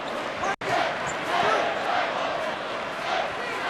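A basketball arena crowd at a Ohio State versus Wisconsin college game, 2014, roars in a tense, sustained din, with a commentator talking over the noise and a brief dropout early on.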